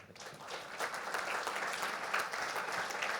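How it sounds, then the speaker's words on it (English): An audience at a tech talk gives a panel of speakers a sustained round of applause, a dense, even wash of many hands clapping that rises quickly and holds steady for several seconds. "So round of applause, please, for Mariana Pereira, Dan Cope, and Tate Cha"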